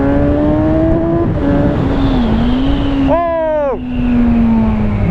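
A 2017 Kawasaki Z1000SX motorcycle is ridden under full throttle, its engine droning loudly over strong wind noise, then shifting up with a quick rising rev before settling back to a steady roar.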